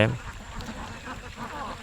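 Egg-laying ducks on a farm, some of them sick, quacking in a steady, busy chorus close by, with low farmyard murmur underneath.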